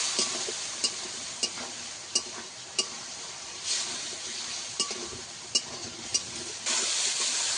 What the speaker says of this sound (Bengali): মশলাটাকে আমি কয়েক সেকেন্ড ধরে ভালো করে ভেজে নিয়েছি।